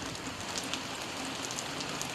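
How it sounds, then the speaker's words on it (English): Rain falls at night by the Bon Secour River, a steady close patter of drops on surfaces with no talk. "Man, it is raining."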